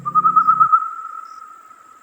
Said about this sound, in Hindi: फड़फड़ाते पंखों की आवाज के साथ एक काला उल्लू आकर गाब के पेड़ पर बैठा और अपनी डरावनी आवाज में बोल उठा।